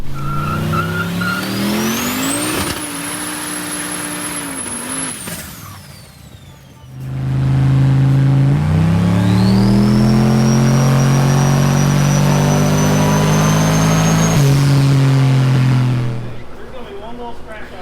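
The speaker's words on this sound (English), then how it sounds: "I have some footage from Chad's Chevelle on the dyno from last Friday night" A turbocharged LS V8 in a 1971 Chevrolet Chevelle roars loudly on a dyno, climbing in pitch through a long rev before cutting off, with a second extended pull following; no voices.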